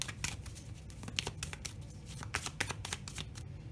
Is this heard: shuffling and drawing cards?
yes